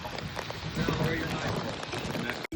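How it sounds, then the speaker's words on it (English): Heavy rain pouring down outdoors at a creek during a fishing outing, a loud continuous wash of drops pattering on surfaces, with a sharp brief interruption near the end. "It's dumping out here, guys."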